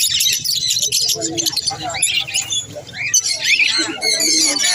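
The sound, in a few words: foreign pet birds chirping at Serampore market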